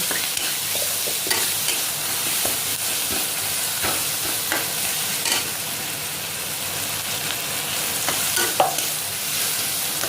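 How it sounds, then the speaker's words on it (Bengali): Spices with turmeric fry in a pan under constant stirring, giving a loud, continuous sizzle with repeated scraping strokes of a spatula against the metal. "হলুদ একটু মশলাটা কষে নেবো"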